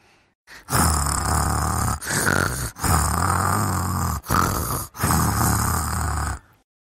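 Loud, rough snoring in four long drawn-out breaths separated by brief pauses, close and heavy with a rattling low tone.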